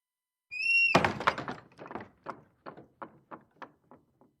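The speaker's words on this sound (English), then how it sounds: "His door actually sounds like a barn door." A poorly oiled wooden house door gives a high creak as it swings, then closes with a loud thunk followed by a string of fading rattling bumps as it settles. The sounds are close, with no talk.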